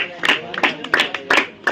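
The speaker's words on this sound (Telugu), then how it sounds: "క్లాప్స్." Several bursts of hand clapping come from children, with the sharp claps breaking out in clusters over about two seconds. Voices mix in beneath the claps.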